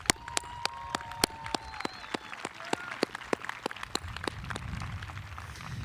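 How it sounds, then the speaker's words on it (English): Audience applause at a 2024 high school graduation ceremony, heard as a thin, scattered patter of claps, some sharp and distinct, spread over several seconds with a faint voice or two underneath. "Let's give them a round of applause."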